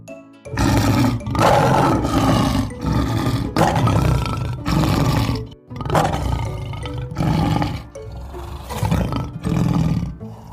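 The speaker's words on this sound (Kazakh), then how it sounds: "Бұл арыстан. Арыстан. Арр. Арр. Дейді." A lion roars in a long series of loud, close bursts, about eight deep throaty roars separated by short pauses, with no voices.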